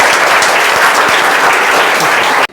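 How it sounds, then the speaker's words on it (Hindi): A crowd gives loud, dense applause for students at a school prize distribution. The clapping is close and sustained, then cuts off abruptly at the end. "इसलिए इन लोग के लिए एक बार जबरदस्त ताली बनता है ना।"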